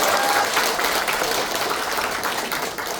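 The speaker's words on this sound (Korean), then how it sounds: "박수 한번 치시죠" Audience at a political party launch event and lecture breaks into loud, dense applause, many hands clapping steadily for about three seconds and fading slightly at the end.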